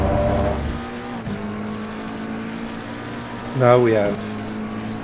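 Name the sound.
race car engine at full throttle at Monza, from a racing video game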